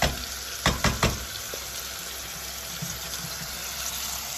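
Tomato paste frying with toasted noodles in a pot for lentil soup, a steady sizzle with a few sharp stirring scrapes near the start, close and continuous.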